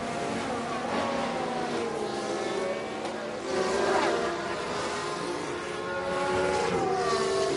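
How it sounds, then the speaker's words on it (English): Formula 1 car engines in F1 Manager 22 on PS5 at Sakhir, a steady high-revving whine with rising and falling pitch as cars pass, continuous and fairly loud throughout. "Genuine engine sounds as well for each of these cars."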